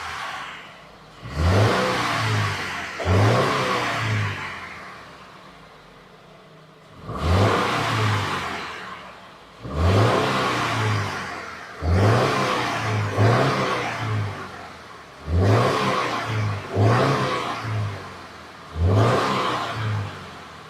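A 2015 Subaru Forester engine is revved repeatedly, about nine sharp throttle blips that climb and fall back toward a low idle between them, close and loud with no talking.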